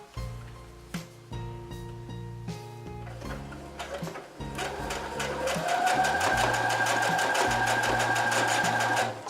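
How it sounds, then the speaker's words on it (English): A sewing machine stitching denim jeans back and forth, starting with a few separate short bursts of needle thumps, then running in a louder, sustained rapid rhythm, close and with no talking. "this particular stitch that I'm using, it goes back and forwards itself"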